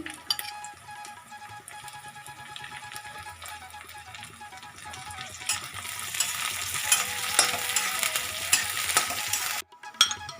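Chopped garlic and chili sizzle and fry in a hot pan for chicken bharta. A steady, loud hiss is broken by occasional stirring scrapes, and it briefly cuts out near the end.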